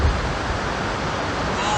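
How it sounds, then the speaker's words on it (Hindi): The waterfall at Noori Chamb palace in Kashmir roars in a steady broadband rush, loud and continuous, with faint wind on the microphone. "ये रहा वो झरना।"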